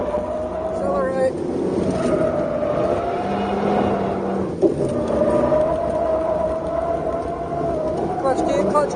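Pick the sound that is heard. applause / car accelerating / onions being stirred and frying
car accelerating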